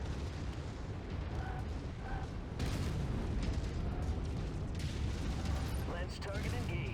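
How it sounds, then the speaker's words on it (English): Ammo explosion in the video game Mechwarrior 5, a series of deep, rumbling booms and blasts in game combat, with voices talking over it. "Ammo explosion detected."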